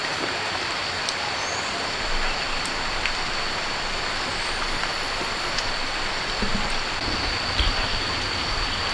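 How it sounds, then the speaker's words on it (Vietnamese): Steady rain falls for the whole stretch in a village setting, a dense, even hiss with no voices. "Mưa suốt bà nhỉ? Mưa cả ngày luôn."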